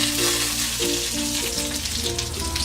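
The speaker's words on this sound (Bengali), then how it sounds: "দিয়ে দিচ্ছি পাঁচফোড়ন" Panch phoron spices crackle and sizzle in hot oil alongside dried chillies and bay leaves, a loud, dense frying hiss that runs continuously, with a faint repeating hum underneath and no talking.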